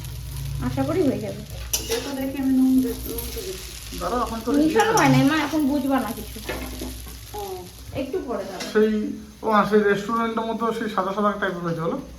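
Chow mein being stir-fried in a pan gives a sizzle and the scrape of stirring, running under almost continuous talking.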